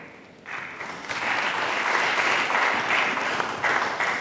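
Scattered applause from a small conference audience welcoming a presenter to the stage, rising after a quiet start into a steady, thin patter of claps that carries on for several seconds with no talking.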